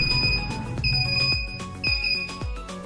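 A robot kit's buzzer sounds in short, loud, repeated electronic beeps, roughly once a second, standing alone with no talk over it.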